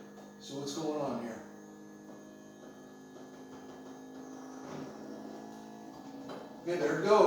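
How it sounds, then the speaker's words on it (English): A Ferrari F355 power seat motor gives a low electric hum as the seat travels forward, faint and continuous, with a person talking over it near the start and the end. "So there, you can see the seats going forward."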